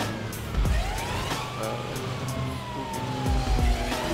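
Ambulance siren in GTA 5 wails loud and steady with a sweeping tone, alongside rumbling vehicle impacts and engine noise, no talk.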